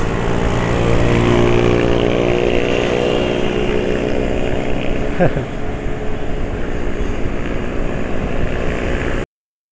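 Automatic scooter cruising at about 60 km/h with the throttle released, a steady close engine drone and road noise running throughout, with a brief change in tone midway as the revs settle.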